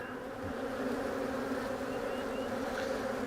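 Honeybees buzz steadily at an open hive during a split inspection, a dense, continuous drone that stays close and loud throughout with no voices.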